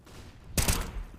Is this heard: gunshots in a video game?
yes